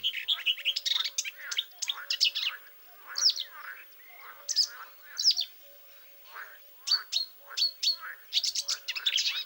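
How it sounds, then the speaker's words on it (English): A marsh warbler, a lively, chattering songbird, warbles in rapid varied phrases, bursts of trills and whistles repeating with short pauses, close and clear against a quiet background. "we will hear the voice of another singer of the moors, the marsh warbler."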